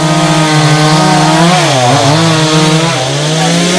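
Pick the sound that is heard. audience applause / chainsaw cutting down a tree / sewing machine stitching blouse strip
chainsaw cutting down a tree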